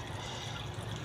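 Water drains from a home fish tank used for a black Thai oranda, a steady soft rushing trickle that runs evenly throughout, faint and alone.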